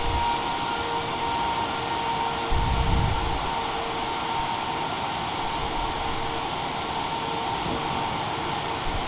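A scramjet engine roars as a steady, broadband rushing drone in a flight simulation game, loud and unbroken, with a brief low thump near the start.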